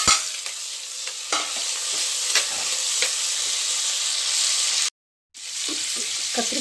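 Brinjal sizzles and crackles steadily in hot oil with fenugreek, cumin, curry leaves and onion, close and continuous, with occasional stirring scrapes and one brief break in the sound.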